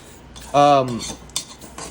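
Utensil scraping and stirring dry fideo noodles as they brown in a pan, with a loud clattering burst partway through and a few lighter scrapes and clinks after.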